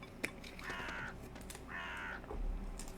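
Two harsh crow-like caws, each about half a second long, come from a bird in a cozy video game. They sound moderately close against a low ambient hum, with no talking.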